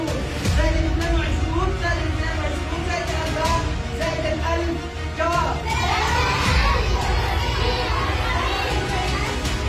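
A large, excited crowd of children at a mental arithmetic training session in Yemen, shouting and cheering continuously with loud overlapping voices and bursts of chatter throughout.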